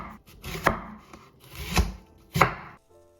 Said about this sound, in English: First, I remove the core of the apple and cut it into slices.